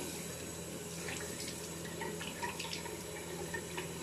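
After a barbershop shave, cold tap water runs into a sink for rinsing, making a steady soft splashing flow with scattered small drips. It is faint and close, with no voices.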